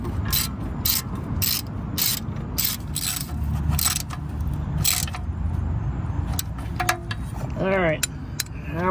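Oil pan bolts being hand-threaded into a Toyota Camry V6 engine, giving a run of quick metallic ratchet-like clicks and small scrapes close by, with a few sharper clinks toward the end, no talking.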